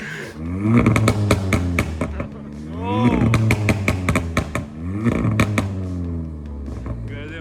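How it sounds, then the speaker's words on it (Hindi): A loud car with a pops tune and a DSG gearbox swap revs hard three times in close succession, each rising engine howl followed by sharp crackling pops on the overrun. "इसमें पॉप सेट डले हुए हैं, बहुत लाउड है"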